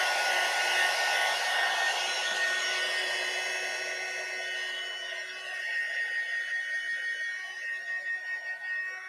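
A handheld dryer blows on wet paint with a loud, steady high whir that softens midway and then wavers in uneven pulses toward the end, with no speech.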